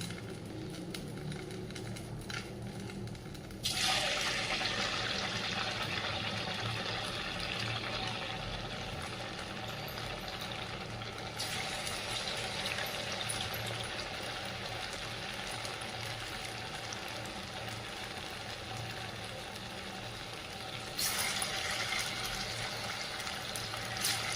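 Chakli dough made from leftover rice fries in hot oil with a constant crackling sizzle, jumping louder a few seconds in and again near the end.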